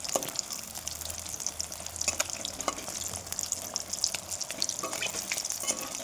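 Marinated fish frying in a pan, a steady close crackling sizzle with scattered sharp spatters and pops throughout, no voices.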